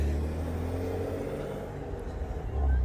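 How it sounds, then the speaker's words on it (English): Traffic drones along a residential neighborhood street as a steady, faint low rumble, with another vehicle swelling closer near the end. "while the cars in my neighborhood are driving by, that's the background noise"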